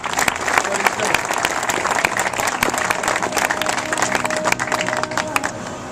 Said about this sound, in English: Let's give Shannon Benz a round of applause for what he's doing.